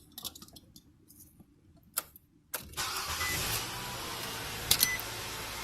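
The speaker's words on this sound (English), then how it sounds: "I need to, first of all, start the engine." A Nissan Sentra engine cranks briefly and catches, settling into a steady idle after a few quiet clicks and small knocks, close and moderately loud with no talking.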